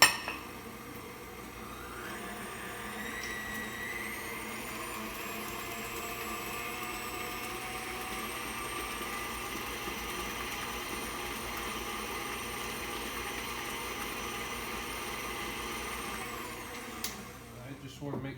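An electric mixer whirs steadily and loudly as it beats cookie dough with eggs and vanilla, a continuous motor drone with a faint clink of the bowl before it stops near the end.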